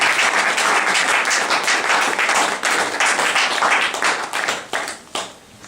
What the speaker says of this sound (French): Est-ce qu'on peut acclamer Jésus-Christ pour l'événement?